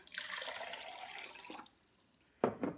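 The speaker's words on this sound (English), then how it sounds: "We're going to start with 1 cup of water." A cup of water pours steadily into a pot for rice pudding for about a second and a half, then stops, followed by a short clunk.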